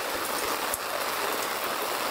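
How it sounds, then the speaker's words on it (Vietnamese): Steady rain falls on a forest campsite in a single even broadband wash, loud and continuous, with one brief louder patter near the middle and no talking. "nó mưa hơi sớm"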